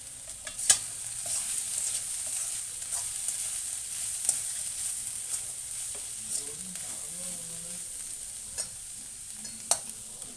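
Onions frying with coriander powder in a pan for an egg dish, a steady sizzle under intermittent scraping and stirring strokes, with a few sharper clinks of the spoon against the pan.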